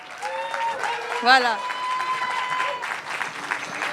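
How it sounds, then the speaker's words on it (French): Steady audience applause fills the room while a person talks over it, the clapping sustained and moderately loud throughout. "On peut encore les applaudir, je crois."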